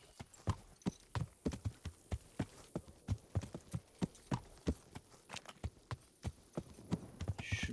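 Horse hooves pounding at a fast gallop in the video game Kingdom Come: Deliverance, a regular, close clip-clop rhythm of sharp thuds continuing throughout without speech.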